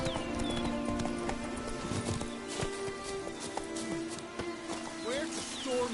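Hooves of the horse Roach clip-clopping at a trot in The Witcher video game, a steady rhythmic patter beneath game music and other effects, with a brief whinny and a spoken voice at times.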